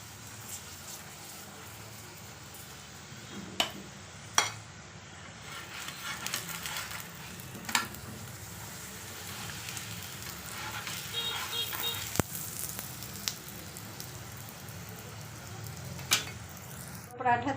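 A paratha fries in ghee on a preheated tawa with a soft, steady sizzle. Occasional sharper crackles and scrapes break through it, and a voice talks over it at times.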